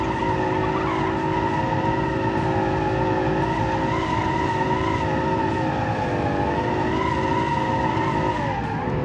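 A V12-powered muscle car holds a long power slide at speed, its tires squealing steadily for several seconds over the loud, continuous drone of the engine.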